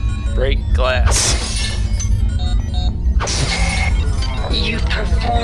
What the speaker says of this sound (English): Break glass.